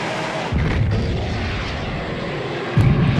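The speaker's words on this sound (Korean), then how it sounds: "지진파를 만들어내기 위해 연구원들이 폭발물을 터뜨립니다" Explosive charges set off by researchers to generate seismic waves for tracking a magma chamber, heard as deep rumbling booms, one starting about half a second in and another louder thud near the end.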